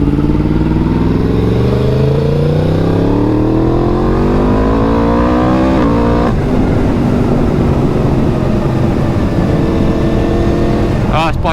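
A BMW R1250 GSA motorcycle engine revs up loudly several times, rising in pitch and falling back in repeated sweeps, then settles into a rough, steady idle, close by and with no other sounds over it.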